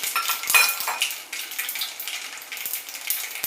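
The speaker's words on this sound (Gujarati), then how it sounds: "હવે આપણે રાઈ જીરુંને ફૂટવા દેશું થોડું." Mustard and cumin seeds spluttering in hot oil as a tempering for sambar, giving a steady, close crackle and hiss with scattered sharp pops and no talk.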